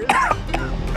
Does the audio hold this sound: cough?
yes